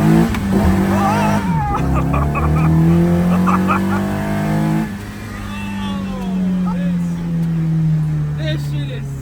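KA-swapped Datsun 210 pulling hard through first and second gear, engine note climbing steeply, a quick shift drop, then a long rising wail in second, loud and close, with excited voices speaking over it.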